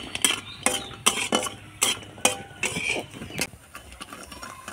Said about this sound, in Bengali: বড়িটা ভেজে দিচ্ছি, ভেজে তুলে রাখছি